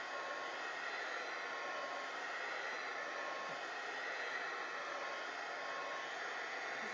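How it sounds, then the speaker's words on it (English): A heat gun blows in a steady, even whoosh while drying mixed media paint on an art journal page, continuous and fairly faint with no talk. "Heat gun. So we just want to make sure that this is dry."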